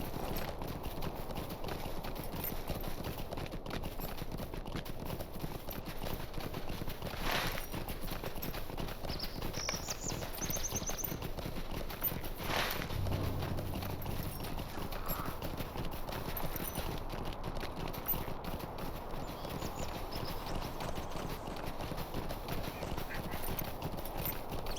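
Steady clip-clop of horse hooves while riding in Lord of the Rings Online, an even, continuous trot pattern carrying on for about twenty-five seconds at a soft, close level with occasional faint interruptions.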